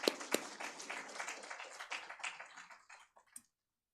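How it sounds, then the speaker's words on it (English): Audience at a highways and rural roads technology conference claps for an honoured guest, a fairly faint burst of applause that thins out and stops within a few seconds. "I think big round of applause to Sri N.K."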